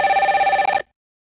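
A telephone ringing in a radio studio during a live call-in show, a loud electronic trilling ring lasting under a second before cutting off into silence.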